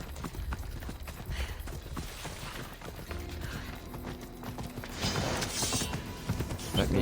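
Rhythmic clip-clop of horse hooves mixed with mechanical creaks and clicks, moderately loud, with a person talking over it at times, from the PC video game Assassin's Creed Odyssey.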